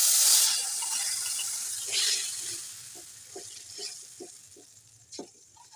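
Raw mango chutney sizzles softly in a pan with cumin as it is mixed in, a steady hiss broken by a few quiet scraping stirs, fading gradually.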